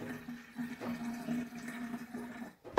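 Water is poured steadily into a couscous steamer, a continuous splashing fill under no speech that ends with a brief clatter.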